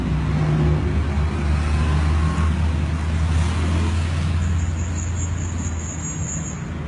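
An Indian Chief Vintage motorcycle on a Sunday morning ride, its engine a loud, continuous low rumble mixed with steady road and wind noise throughout.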